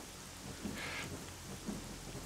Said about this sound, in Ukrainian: Вам не сильно дощ бігачить в ухо?